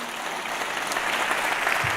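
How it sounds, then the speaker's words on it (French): A short burst of steady clapping from a crowd, fairly loud and even throughout, with no one talking over it. "Vous pouvez l'applaudir."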